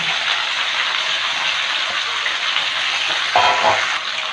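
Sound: pumpkin, beans and Malabar spinach stalks frying in a pan

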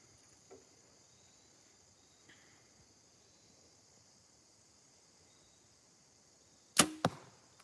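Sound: arrow shot from a bow at a target

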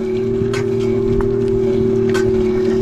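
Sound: Electric Bike Company Model J electric bike motor running

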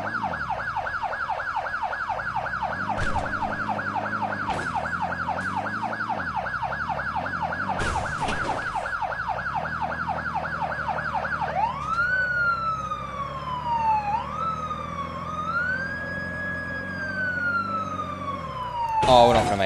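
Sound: police car siren in the video game MadOut2

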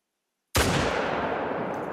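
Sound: F.L. Sporter .303 rifle shot in video game theHunter COTW

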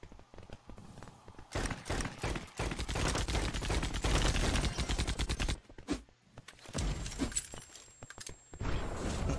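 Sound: gunfire in the video game EV.IO

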